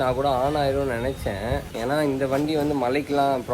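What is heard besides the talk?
No everyday noises stand out.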